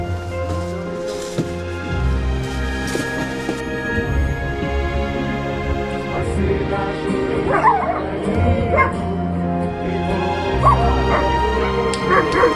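About seven dogs bark and yip loudly and repeatedly, with some whimpering, over people singing and talking in the background at a village church in eastern Ukraine.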